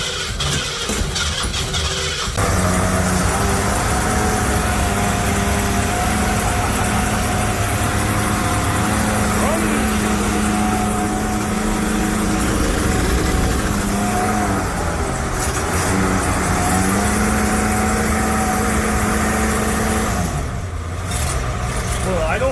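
A V8-swapped 1936 Divco bread truck cranks and fires up, then runs at a loud, steady idle with occasional rev swells for about twenty seconds, close by, with some voices faintly over the engine.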